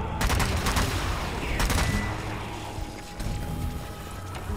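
A zombie fires a gun in the video game Zombie Army 4, loud dense gunshots crackling over a steady wash of game noise.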